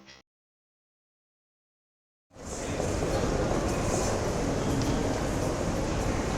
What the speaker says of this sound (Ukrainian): Наш поїзд їде додому.